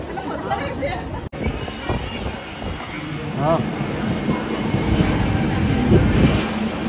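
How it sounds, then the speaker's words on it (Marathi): A metro train rumbles while standing at a station amid crowd chatter and a few voices, with a low mechanical hum building steadily toward the end. "ही बघा मेट्रो गाडी उभी आहे इथे"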